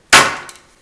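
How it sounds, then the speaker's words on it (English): A single sharp wooden knock as a mallet strikes and pops off a wooden dowel on an organ music roll spool, close and loud, then a quick decay with a faint second tap. "Use a mallet."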